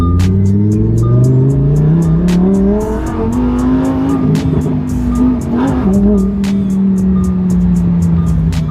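A sports car's engine revs loudly and steadily, its pitch rising and falling through the whole stretch with no talk over it.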